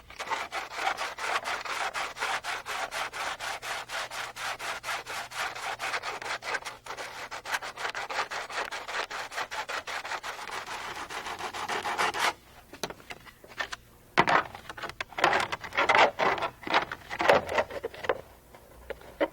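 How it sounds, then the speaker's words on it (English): Rhythmic sanding and rasping on the skid pants of a RotorWay 162F helicopter kit, a fast steady back-and-forth scrape for about twelve seconds, then slower, irregular strokes with brief pauses. "Sand and trim as necessary."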